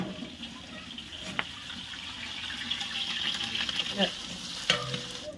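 Onions and mustard seeds sizzle in hot oil in a pan, a steady close fry broken by a few clinks and stirring scrapes.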